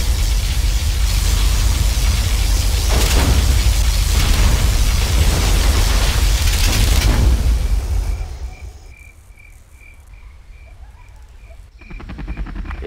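Particle cannon blast in Command & Conquer Generals Zero Hour, a loud, sustained roaring wash of noise for about eight seconds that abruptly cuts to a quieter background with faint repeating electronic beeps.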